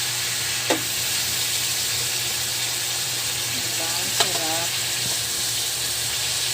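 Chicken gizzards and liver sauté in a pan, a soft steady sizzle running throughout with a couple of brief clinks of a utensil.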